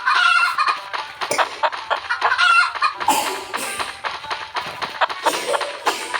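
Clucking chicken sounds from a video game, a fairly loud stream of short fowl calls over busy game audio with bursts and clatter throughout.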